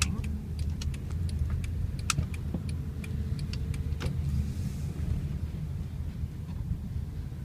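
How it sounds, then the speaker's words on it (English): A car rolls slowly along a residential street, giving a steady low road rumble with scattered faint clicks and a light jingle, and no talking. "I was driving very slowly just because I'm videotaping."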